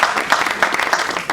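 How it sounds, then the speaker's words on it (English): An audience at an anniversary gathering claps steadily, a dense patter of many hands close by that holds evenly for a brief moment. "Can you clap for yourselves?"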